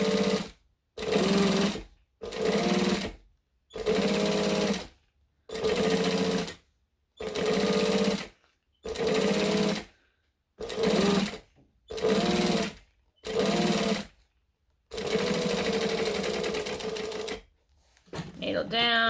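Domestic sewing machine stitching fabric with the needle down, running in about eleven short, even bursts separated by brief pauses, then one longer continuous run, close and clear.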